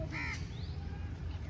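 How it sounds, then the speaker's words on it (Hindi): A crow caws outdoors behind a pet owl being trained, one harsh caw standing out early and then fading into steady outdoor background noise. "पीछे कौवे हैं तो इनके ऊपर ज़्यादा अट्रैक्ट हो रहा है"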